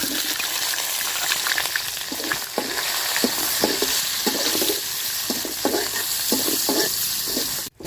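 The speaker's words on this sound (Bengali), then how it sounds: "পেঁয়াজ আর রসুন মরিচ আমি লাল লাল করে বাজিয়ে নিছি" Onion, garlic and dried red chili frying in oil for tempering greens, a steady loud sizzle with repeated scraping stirs of a spatula throughout, close up and with no voice.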